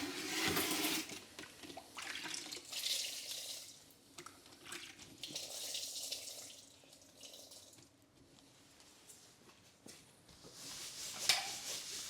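Water running and splashing as it rinses dirty PVC carpet-cleaning equipment in a rug-cleaning shop, a stream hissing in bursts that swell and fade over several seconds, close and fairly loud.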